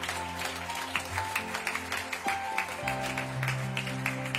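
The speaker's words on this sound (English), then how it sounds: "Can we give the Lord a hand clap of praise for what he's done in this service today?" A church congregation claps hands in praise during a Sunday morning worship service, a steady run of overlapping claps over sustained music.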